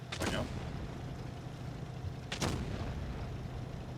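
Two heavy, booming shots from a double-barrel tank cannon in World of Tanks Blitz, spaced about two seconds apart, loud over a steady rumbling game background.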